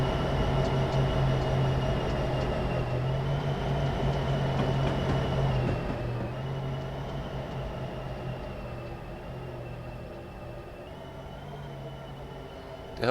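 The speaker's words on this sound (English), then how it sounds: "There's our train." A BNSF SD75M diesel locomotive runs in the Train Simulator 2016 game, a steady engine drone and rolling rail rumble that holds continuously, easing slightly quieter partway through.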